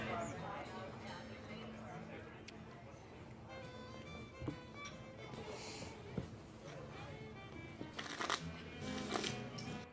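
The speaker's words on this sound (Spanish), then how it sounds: "Puedes barajar esas cartas todo el día" A deck of playing cards is shuffled repeatedly at a blackjack table in a western saloon scene, with crisp riffling bursts and snaps over several seconds amid low background chatter.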